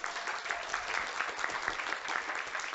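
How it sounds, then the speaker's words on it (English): Steady audience applause at a KluCon tech conference talk, a dense even wash of many hands clapping throughout, moderately loud and continuous with no talk over it. "Let's give a big KluCon round of applause to Moshe Yudkowsky."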